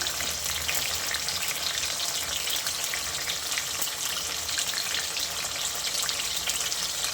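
Chopped tomatoes hit hot oil in a pan and fry with a steady, dense sizzle and crackle that holds evenly throughout, close by, with no talking.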